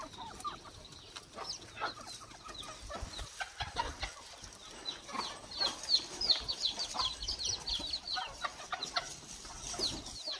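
Hens cluck and chatter in a busy flock with a rooster among them on a free-range village farm near a cattle shed, a continuous mid-distance murmur of overlapping calls.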